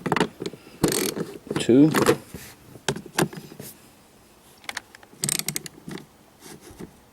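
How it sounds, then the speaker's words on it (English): Ratchet with an extension giving a fastener a quarter turn while refitting the cabin filter cover on a 2008-2014 BMW X6 E71, heard as a few short close clicks and mechanical scrapes mixed with brief talk. "Now we use our extension, and we'll do a quarter turn once"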